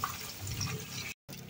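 Water drains from rice in a strainer in a home kitchen, a close, steady rushing trickle that cuts off abruptly near the end.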